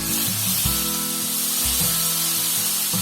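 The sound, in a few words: onions sautéing in a pan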